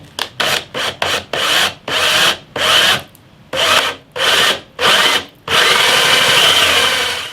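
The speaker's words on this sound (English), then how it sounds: "all we've got to do now is go in there with a Forstner bit" A Forstner bit bores into wood for a guitar bridge fitting during an olive and walnut guitar build. The drill runs in about nine loud, close bursts with short pauses, then finishes in one longer steady run of grinding, rasping cutting.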